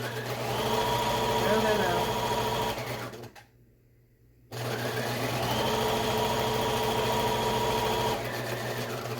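A sewing machine runs fast and steady, stitching fabric and elastic for a face mask, with a brief pause of near silence midway before the motor whirs back up to full speed.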